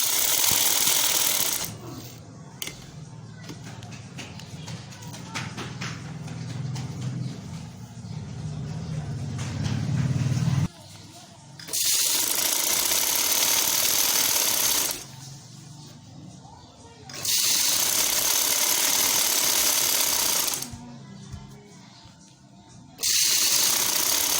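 Sewing machine stitching frock fabric, loud close whirring runs broken by quiet gaps where the cloth is adjusted, several bursts of steady mechanical rattling.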